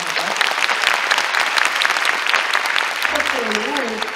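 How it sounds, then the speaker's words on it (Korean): Audience applause at a lecture concert, a crowd clapping steadily and loudly for the whole stretch, with a brief tonal musical or vocal sound rising near the end. "두 번째 스테이지도 큰 박수로 청해 듣겠습니다."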